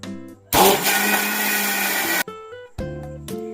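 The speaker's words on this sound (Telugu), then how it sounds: "ఇగోండి ఇదైతే మిక్సీ పట్టేస్తా ఇప్పుడు" A mixer grinder churns curd into butter for homemade ghee. Its loud, close motor whine runs for about two seconds, cuts out, then restarts in shorter bursts between quieter spells of background music.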